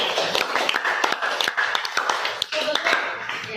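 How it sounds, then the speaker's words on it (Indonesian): Classroom applause for a student group after its presentation: many hands clapping in a steady, fairly loud patter with a brief dip near the end, and voices talking under it. "Mari kita beri aplaus untuk kelompok 2"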